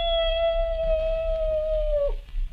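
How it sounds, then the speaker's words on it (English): A dog howls outdoors in one long, steady, loud wail near a woodland clearing, holding a high sustained note for about two seconds before it breaks off, with no talking. "It sounds like one of our dogs."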